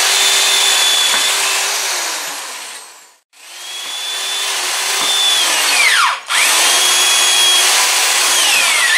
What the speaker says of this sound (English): I'm going to drill some holes in this cross member that's going to hold it together.